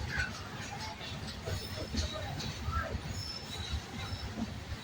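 Hubballi–Rameshwaram Weekly Express train rolling along in the evening, a steady low rumble with scattered squeals and rattles at middling loudness, muffled voices faintly underneath.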